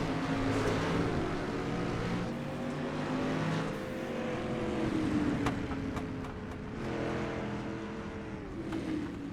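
Dirt-track race cars at Cedar Lake Speedway in a racing game, several engines roaring and wavering in pitch as they rise and fall together, with a few sharp clicks mixed into the steady pack noise.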